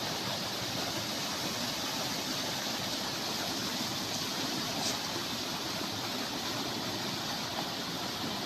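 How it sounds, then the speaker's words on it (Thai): Water flowing steadily outdoors after rain, a dense, continuous broadband rush that stays loud and even throughout with no pauses and no voices. "ฟังเสียงน้ำไหลเด้อพี่น้อง"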